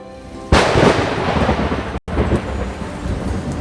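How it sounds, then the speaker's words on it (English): A storm bursts in with a sudden loud thunder crack over pouring rain, then the rumble and heavy downpour roll on steadily after a brief cut to silence. "Suddenly, a big storm came."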